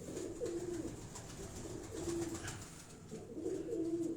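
A pigeon on a rooftop in Nawab Shah, Sindh, gives soft, repeated low coos in a steady rhythm over a constant background hiss, fairly faint and unaccompanied by speech.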